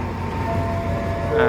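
Thai train number 259 bound for Kanchanaburi rumbles past nearby, a steady low rolling drone with tonal whining, swelling slightly louder at the end, with faint voices in the background.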